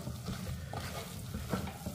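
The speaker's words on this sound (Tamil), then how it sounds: "இப்போ நம்ம நல்லா இதை கிளறிடணும்" Garlic millet rice is stirred in a pan, making a soft continuous scraping and shuffling with faint sizzle underneath, close but quiet, with no talking.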